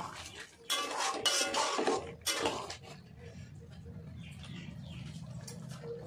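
Coriander leaves and cumin powder being stirred into a rohu fish roe curry, a few clattering bursts of a utensil against the pot followed by a softer simmering bubble, close by with a faint voice in the background.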